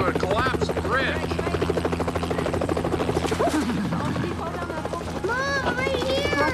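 Loud helicopter rotor chop, a rapid steady thudding throughout from nearby, with people speaking over it and a higher voice calling out toward the end.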